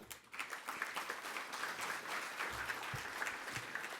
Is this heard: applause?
yes